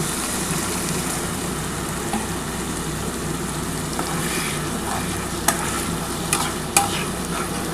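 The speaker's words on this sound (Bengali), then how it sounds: "এবার সামান্য পরিমাণে একটু জল দিয়ে দেবো।" A small splash of water goes into spice paste frying in a pan for a mild catla fish curry. A dense, even bubbling sizzle fills the whole stretch, and a few sharp clicks and taps land near the end.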